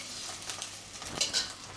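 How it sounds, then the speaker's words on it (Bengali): Eggs frying in oil in a home kitchen pan, a soft steady sizzle with light stirring and a couple of brighter utensil scrapes against the pan, close and alone without voices. "ডিমগুলো ভেজে নিচ্ছি আর এই ডিমগুলো ভেজে নিচ্ছি এই যে।"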